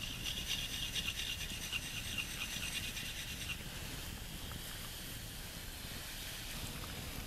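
Mora spoon knife rubbed in circles against a handheld sharpening stone, a continuous close scraping rasp with rhythmic strokes and faint high metallic hiss, no talk.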